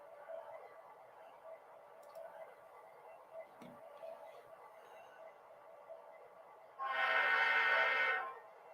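A Union Pacific model locomotive idles with a low steady engine hum and faint ticks, then its horn sounds one sustained blast of about a second and a half near the end.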